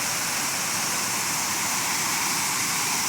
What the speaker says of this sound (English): Beautiful waterfalls here.